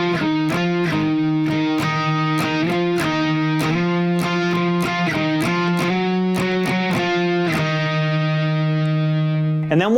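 A distorted electric guitar chugs through a song's rhythm, sliding between fretted notes in a steady pulse of short, punchy strums, loud and close, and sounding alone for about ten seconds.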